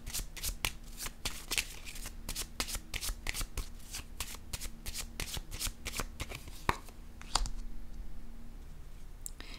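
Tarot cards being shuffled and laid out, a steady rapid riffle of card clicks for most of the stretch that eases into softer handling near the end, close to the listener and without speech.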